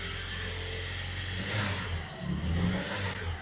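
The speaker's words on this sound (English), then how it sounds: "it's sputtering whenever I give it gas" A Toyota Tacoma 2.7 engine revs unevenly when given gas, a loud close rumble that surges and wavers as if sputtering lean, with no talk over it.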